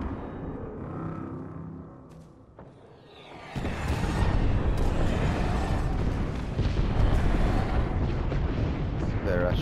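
Call of Duty airstrike detonating, a quieter stretch of game ambience giving way to a sudden loud blast that swells into continuous rumbling explosions lasting several seconds.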